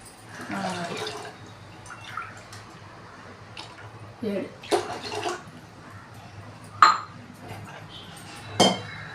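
Rice is washed with water in a pot, with scattered clinks and sharp knocks against the pot, soft sloshing and a few louder splashy bursts spread over the stretch, fairly close.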